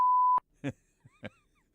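A single steady electronic beep lasting under half a second, loud and clean, followed by a few faint, brief muffled noises.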